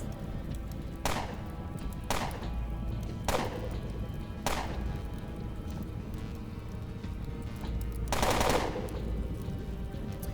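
Assault rifle gunfire in the video game Underrail, heard as about five sharp, spaced bursts over a steady rain-like ambient bed, with no voices.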